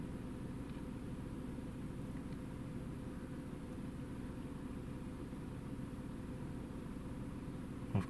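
A Mini engine idles steadily at close range, a constant low hum with no talking, ending in a brief bump near the close.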